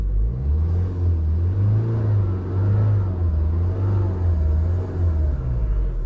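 A 2023 Tata Altroz XZ 1.5L BS6 diesel with manual gearbox, driving with a steady, close, rumbling engine drone whose pitch rises and falls gently throughout, with no talking.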